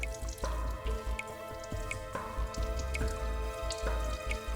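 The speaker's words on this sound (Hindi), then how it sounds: "यहां से पानी टपक रहा है" Water drips in a bathroom in a steady series of small, crisp drops, plopping at regular intervals over a low, constant background hum.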